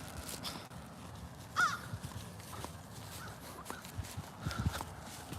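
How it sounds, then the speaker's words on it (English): Crows caw a few times outdoors near construction work, short calls at moderate distance over a steady background of outdoor noise. "Some crows here."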